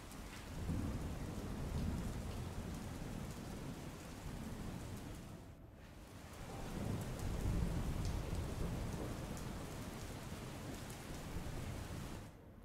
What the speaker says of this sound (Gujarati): અમદાવાદમાં પણ સવારથી જ ધીમી ધારે વરસાદ અનેક વિસ્તારોમાં ખાબક્યો છે